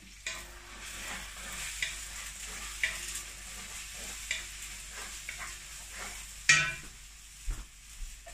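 Food is stirred in a hot pan, a low steady sizzle running under intermittent close scraping strokes and an occasional sharper clink of utensil on metal, with no talk.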